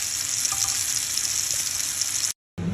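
Garlic cooks in butter in a pan over lowered heat, giving a steady, even sizzle that runs unbroken for about two seconds before cutting off abruptly.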